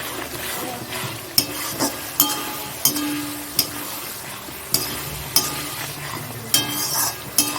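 Garlic frying in a pan while a utensil stirs it, a steady sizzle broken by sharp, regular scrapes and taps of the spoon against the pan roughly every second, close and clear with no talking.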